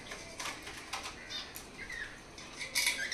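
Soft bursts of wing flapping from caged birds, including cockatiels, several short flurries with faint chirps, fairly close and moderately quiet.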